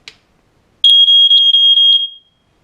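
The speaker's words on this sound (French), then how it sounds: "Ça sonne aussi fort qu'un détecteur de fumée." A brief click, then a loud, piercing high-pitched electronic alarm tone from a carbon monoxide detector sounding continuously for over a second before cutting off.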